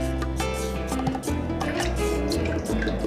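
Thick homemade coquito without eggs is poured through a funnel into a 1.75 liter bottle, giving a continuous close, glugging liquid stream with small drips and gurgles for about three seconds, with no one talking.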